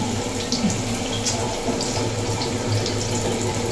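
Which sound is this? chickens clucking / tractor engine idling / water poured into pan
water poured into pan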